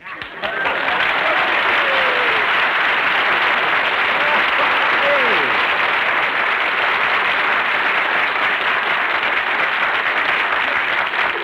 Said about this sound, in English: Everybody on the street is applauding.